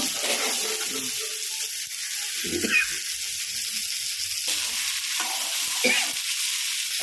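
Onion and tomato sizzle and are stirred in a pan for a crab curry, a soft steady frying hiss with occasional scraping stirs, fairly faint and close.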